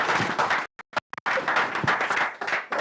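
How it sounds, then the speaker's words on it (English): An audience at a company anniversary event gives a round of applause welcoming the chairman, a busy crowd clapping briefly broken by a couple of dropouts, then resuming just as full. "Let's all welcome with a wonderful round of applause,"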